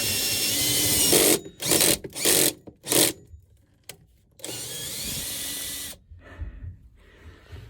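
A power drill runs close and loud in several short bursts with pauses between, drilling through a safe, then a longer steady run before stopping.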